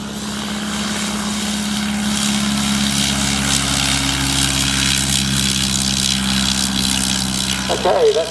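Tiger Moth propeller biplanes take off at an airshow, their engines droning in a loud, steady buzz with a strong low hum that stays close throughout, while a public-address voice talks over it.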